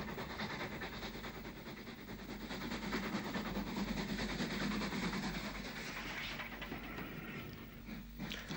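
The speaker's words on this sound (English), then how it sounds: "U-Class 440 leaves Lisburn on an All Stations train to Belfast" A U-Class 440 steam locomotive pulls out of Lisburn station with an all-stations train to Belfast, a faint, steady rumble of chuffing and wheel noise on a dull recording.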